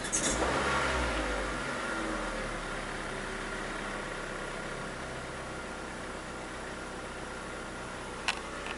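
A 2003 Mazda Protege engine idles steadily with a low, even hum and faint fan noise. It settles down slightly after a brief higher start, with one small knock near the end and no voices.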